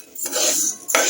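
Dal lentils roast in a pan as a spoon stirs them, giving a short gritty rattling scrape in two quick bursts, close and fairly loud with no speech.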